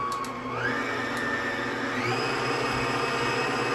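An electric hand mixer whips a hunk of cream cheese into frosting for cinnamon rolls, its motor whine loud and close and stepping up in pitch twice as the speed rises, with no voices.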